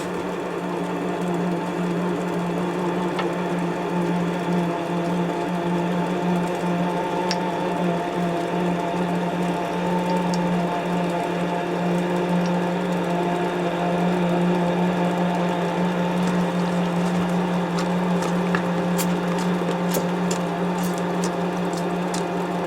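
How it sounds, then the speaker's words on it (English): A WARCO WM180 lathe knurls a workpiece, giving a steady, loud mechanical whir with a strong low hum, continuous throughout and with no voices. "It's the first time I've tried knurling on this this lathe."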